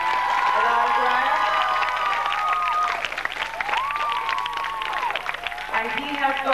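An audience at a school poetry recitation contest applauds the winner, with sustained clapping and cheering mixed with loud voices and shouts.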